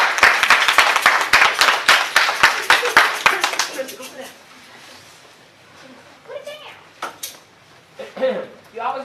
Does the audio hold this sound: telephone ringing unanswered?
no